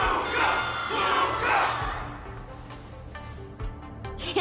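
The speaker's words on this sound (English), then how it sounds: "Everyone's cheering for you, Luca!" A crowd cheers at a war dance ceremony in a video game, a swelling roar of many voices shouting together, loud at first then easing, with a few sharp thuds and claps near the end.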